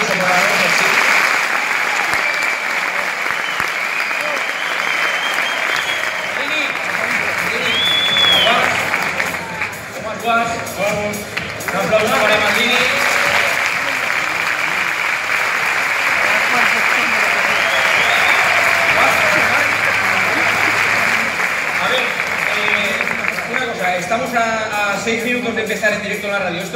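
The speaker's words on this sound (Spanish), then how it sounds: "Un aplauso para Manolo Sanchís" Theatre audience giving loud, sustained applause during a live radio show, with cheering and crowd chatter mixed into the clapping throughout.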